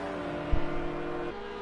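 An Audi R8 GT3 race car engine in iRacing at Sonoma Raceway drones with a steady high engine tone, brief thump midway, then a pitch drop as revs fall.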